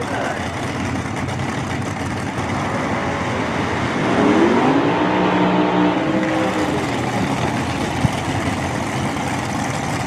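Funny car drag racers run side by side at Mo-Kan Dragway, heard as a broad, distant engine roar that swells midway and then holds steady under a wash of crowd and track noise.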